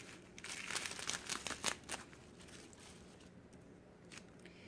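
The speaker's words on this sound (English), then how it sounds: "slowly peel back the bubble wrap" Bubble wrap being peeled slowly off a block of freshly unmolded oatmeal milk and honey soap gives a close burst of crinkling and crackling, then settles into quiet with a few faint rustles.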